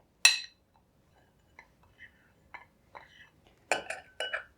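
Sparse, quiet clinks and light scrapes of a spoon against a bowl while mixing salt with spices for a dry marinade, spaced irregularly with near silence between them.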